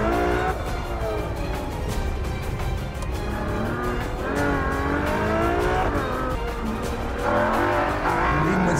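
A 2012 Ferrari FF drives through hairpin corners on Italian Alpine mountain roads. Its engine note rises and falls continuously and loudly, with shifting pitch as it accelerates and changes gear, and tyre noise runs beneath it.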